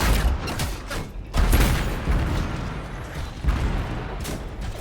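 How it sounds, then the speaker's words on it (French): Grenade blasts in the Anthem video game: dense, noisy booms of explosions and combat effects that swell at intervals, heavy low rumble throughout, no speech heard. "Une grenade."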